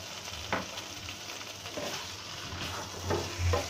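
Diced potatoes frying with garam masala for aloo dum, a quiet steady sizzle with a few soft scrapes of stirring and a low hum underneath.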